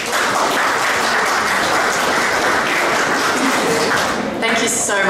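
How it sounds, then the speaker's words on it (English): An audience at an Australia Day flag-raising ceremony gives a loud, sustained round of applause that fills the space, with a voice briefly rising near the end. "We give her a big round of applause."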